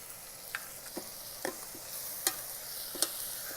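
Shrimp frying in an Instant Pot, a faint low sizzle broken by several sharp scrapes and clinks of stirring spaced about half a second apart, with no talking.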